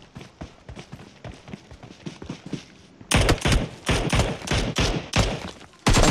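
PUBG Mobile gunfire, a steady run of evenly spaced shots that turns sharply louder and closer midway and continues in heavy bursts, with no talking.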